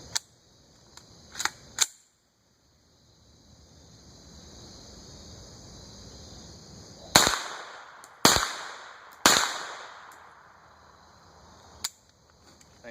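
AR9 pistol fed from a Glock 17 magazine fires a few sharp, loud shots with short gaps between them, followed by a faint dry click on the last round. Outdoors, with quiet pauses in between and no talking.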